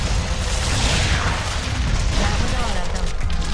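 Rocket turret explosions in the tower-defence video game Sanctum 2 form a dense, continuous rumble of loud booms and blasts that fills the whole stretch without a break.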